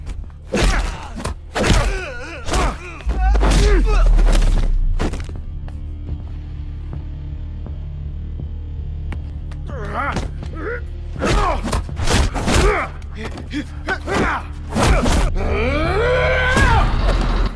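Blows, thuds and grunts rise and fall through a film fight scene in which prisoners brawl with a gang of jail thugs, the impacts sharp and close among strained vocal groans.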